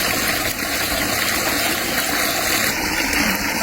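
Steady, loud rush of clean stream water pouring continuously, a dense gushing wash with no pauses or voices.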